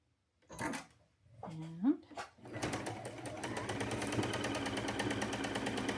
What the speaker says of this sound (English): sew it across